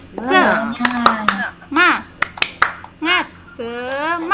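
A class of schoolchildren performs a rhythmic spirit clap, crisp handclaps in quick clustered beats alternating with short chanted children's voices, close and clear.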